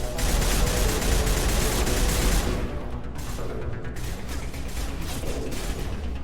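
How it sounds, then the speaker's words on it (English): Dense gunfire from the Mass Effect video game: a continuous loud barrage of shots and explosive rattles that eases slightly partway through but keeps on without a break. "What are you shooting at?"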